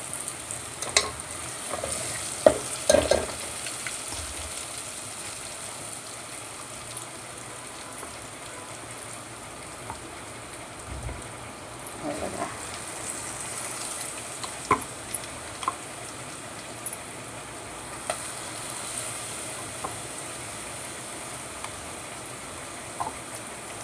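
Puran filling being stirred in a pan over low gas, a soft continuous sizzle with scattered scraping and tapping of the spoon against the pan, close and steady.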